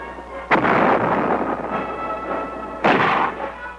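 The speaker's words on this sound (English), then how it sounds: "Artillery" Vietnam War artillery pounding a hill during an assault: two loud, close booms about two seconds apart, each with a long rumbling decay, heard alone.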